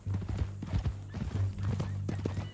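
Horse hooves clip-clop in quick, uneven beats in Red Dead Redemption 2, close and clear, with a short whinny-like tone mixed in.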